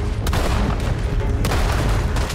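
Gunfire in the Red Dead Redemption 2 video game: two sharp, loud shots about a second apart, set against a dense, continuous rumble of game background noise.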